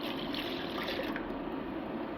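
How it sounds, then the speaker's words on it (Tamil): A cup of water poured into a pan of milk for making tea, a soft continuous trickling and splashing that stays steady and fairly quiet for the whole stretch. "1 கப்பு தண்ணி ஊற்றிக்கலாம்."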